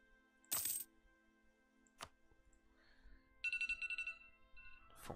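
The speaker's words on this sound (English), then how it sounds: "Phone's beeping. It's the phone." A phone rings out with a short burst of rapid electronic beeps, preceded by a few sharp clicks and knocks, fairly quiet and alone with no talking.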